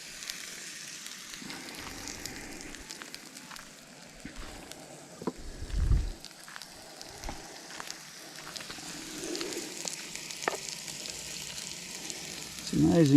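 An egg sizzles steadily in a hot cast iron pan while camping, with soft crackles and a few scraping clinks of a spatula against the metal.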